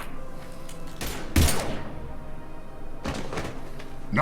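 Gunfire in Mass Effect 3, with two loud bursts of shots about two seconds apart, close and sharp, over a low steady background hum.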